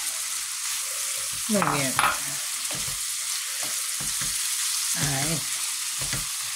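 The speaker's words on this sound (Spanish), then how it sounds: "dejaremos que se fría un poco" Tomato pieces for a bacon quiche fry in a pan, giving a constant loud sizzle under brief bits of a voice speaking.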